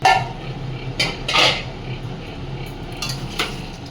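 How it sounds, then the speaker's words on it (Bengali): Vegetables being sautéed in oil in a pan, with potato mentioned, scraped by a metal utensil in a few sharp clanks and scrapes over a soft steady sizzle. "কষতে থাকবো এটা যতক্ষণ না তেল ছাড়বে"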